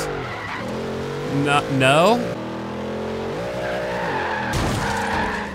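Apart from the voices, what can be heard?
Cadillac Escalade ESV drifting, tires skidding in video game Forza Horizon 3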